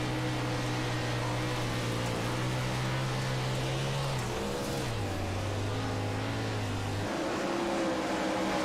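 Engine drone of 410 sprint cars racing three wide in a racing video game, a steady loud whine whose pitch steps down and back up as the cars shift and charge down the front straightaway.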